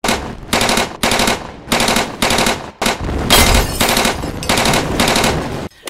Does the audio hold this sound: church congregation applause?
no